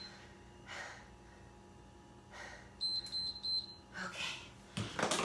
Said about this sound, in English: I gotta shut the timer off.